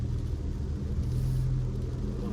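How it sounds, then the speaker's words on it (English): A car rolling past on a town road in Big Bear Lake, California, heard as a steady, low engine rumble and tire drone close by, continuous for a couple of seconds with no talking. "I'm just gonna hang on right here and let this car pass"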